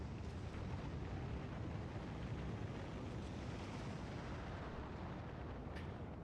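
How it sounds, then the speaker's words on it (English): Rocket launches in Factorio: a steady, dense roar of engine rumble holding at an even level for the full six seconds, distant-sounding and without clear separate blasts, no voices. "We should now get a beautiful line of rockets."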